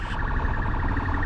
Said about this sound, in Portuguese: Tu vai pra onde com essa sirena aí?